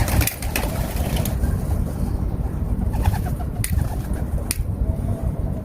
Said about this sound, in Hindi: तो अपने कबूतर भी उड़ के बार से बैठ रहे हैं